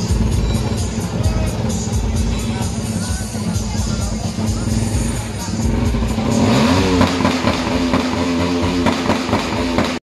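Loud motorcycle engines rev and roar continuously amid a noisy motor show crowd, with rising revs partway through.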